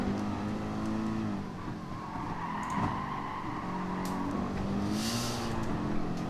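A race car engine drones and revs steadily around the Nordschleife in GT Sport, pitch shifting up and down with gear changes, with light tire squeal and skidding under the sustained engine note.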